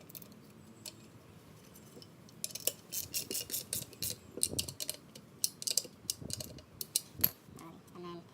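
Small metal clicks and taps of nuts being run back onto bolts and nipped up by hand on a Toyota Supra alternator with an aftermarket rectifier, a scattered, irregular series of light close-up clinks, no talk.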